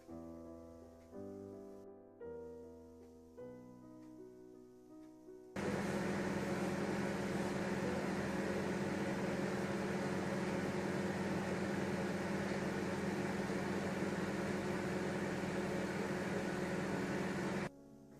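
A microwave oven beeps a few short musical notes, then a steady loud hum takes over and runs evenly for about twelve seconds before cutting off, while cooking khoya.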